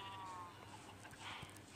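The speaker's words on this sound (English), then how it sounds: "Come here, sheep." A Minecraft sheep bleats once, briefly and faintly, over a soft game background hum with no talk.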